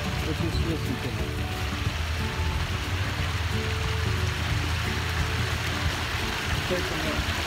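Water trickles and splashes steadily in an Eco Pond 2000 backyard pond outdoors, a continuous close wash of running water with a low background rumble and no speech.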